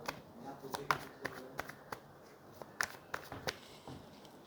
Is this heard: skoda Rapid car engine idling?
no